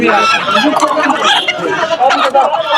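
Native country chickens cluck and squawk close by amid busy chatter of people talking at a poultry market, a dense, continuous crowd of bird and human voices.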